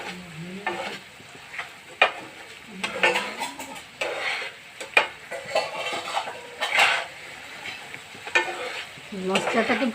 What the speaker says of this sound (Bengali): মশলাটাকে ভালো করে ভেজে নেব আমি।